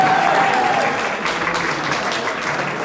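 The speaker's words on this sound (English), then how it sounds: "Give them applause." Audience applause in a hall, a steady bed of clapping that holds at an even level for a few seconds.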